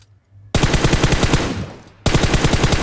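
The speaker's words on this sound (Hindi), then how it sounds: "रैंडम फायर कर रहे हैं स्मोक में" Automatic gunfire in a video game: two loud, close bursts of rapid-fire shots, the first trailing off before a short gap and a second burst resuming.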